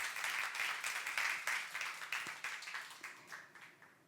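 A church congregation at a youth service claps together to give glory to God, a soft, moderately distant wash of applause that gradually fades out.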